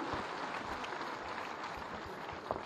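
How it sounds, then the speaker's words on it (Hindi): An audience at a government agriculture and food processing event applauds farmers, a soft, distant, continuous patter of many hands heard faintly through the hall without anyone speaking. "मैं चाहूंगी समस्त कृषकों के लिए एक बार जोरदार तालियां हो जाए"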